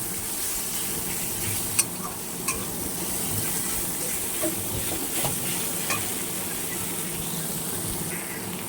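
Onions frying in oil in a pan for a pangas fish curry, giving a steady close sizzle and crackle with a few sharp clicks of a spatula against the pan and no talking.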